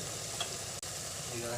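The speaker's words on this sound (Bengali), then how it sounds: "এখন আমি মশলার মধ্যে চিকেনটাকে দিয়ে দেব।" Chicken frying in spice paste for a coconut-milk chicken dish, a steady close sizzle and bubbling that runs almost continuously, with one brief dip in the middle.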